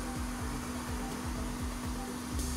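A heat gun or hair dryer blows steadily on an iPad Air 4 touch screen to soften its adhesive, a constant close airflow roar with a low rhythmic pulsing underneath.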